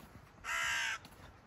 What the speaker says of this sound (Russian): Там тоже ворона какая-то прилетела.